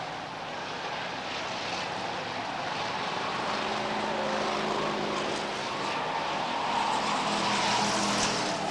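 Stock cars thunder around Beech Ridge Motor Speedway during a weekly race night, running three-wide in a steady, dense engine roar that swells slightly toward the end, with no voices.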